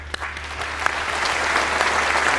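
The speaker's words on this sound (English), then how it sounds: "I give them a round of applause." An audience applauds at the Ellis Island Medals of Honor ceremony, dense clapping building slightly over a couple of seconds with a low hum beneath, moderately loud and continuous.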